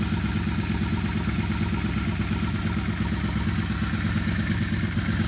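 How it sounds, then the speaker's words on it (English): A Yamaha Star 650 motorcycle engine idles steadily during carburetor synchronization, a continuous close, loud mechanical rumble with even pulsing and no talk. "You can hear the engine even out as I turn it."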